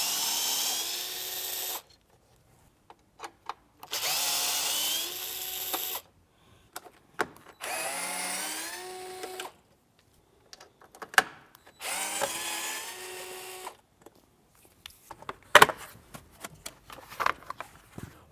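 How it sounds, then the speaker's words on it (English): A power driver with a T25 Torx bit backs out screws from a Jeep Wrangler JL roll bar panel, several loud whirring bursts of a few seconds each, separated by quiet pauses and small clicks and handling noises. "Using our T25 Torx bit, we're going to remove the 4 Torx screws that are holding the panel on"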